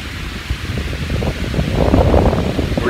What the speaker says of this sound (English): This wind is really picking up.